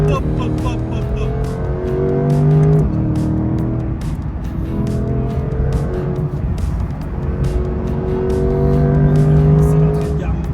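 A Corvette C8 Stingray runs hard on a closed road, its engine loud and close as it accelerates through repeated rising revs with gear-change drops and brief tyre squeal, while people talk over the engine noise inside the car.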